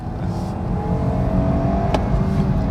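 A BMW 420i engine revs and builds speed in sport mode, its sporty growl rising steadily and holding loud and close throughout.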